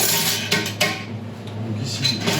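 Metal spoons clink against each other and a bowl while shaping quenelles, a few light, close taps over a low kitchen background hum.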